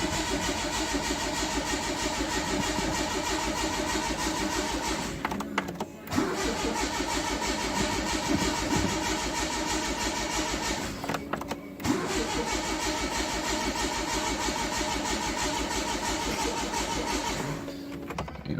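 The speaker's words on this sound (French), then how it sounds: "Et on met un coup de démarreur." A Renault GT Turbo rally car's starter motor cranks the engine over and over without it firing, a loud, steady whirring churn close by that breaks off briefly twice before resuming, with no voices.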